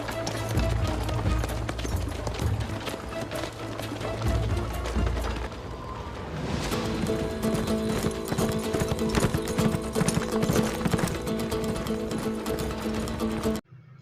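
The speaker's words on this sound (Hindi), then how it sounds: "अर्तुगरुल उस काफ़िले के सामने पहुंच जाता है और अपने घोड़े की अगली टांगें हवा में बुलंद करता है।" Horses gallop in a period drama, hooves clip-clopping in a rapid, continuous rhythm. The sound is loud and close, layered over dramatic music, with no speech.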